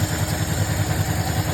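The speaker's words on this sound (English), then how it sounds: "The car still runs a little rough." A 1967 Pontiac Tempest with a brand-new carburetor idles rough, a close, steady low engine rumble with an uneven, lumpy pulse throughout.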